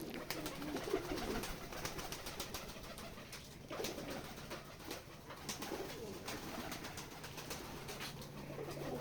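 Pigeons on a pigeon farm in winter coo and flutter steadily throughout, a dense, continuous chorus of nearby birds with no talk.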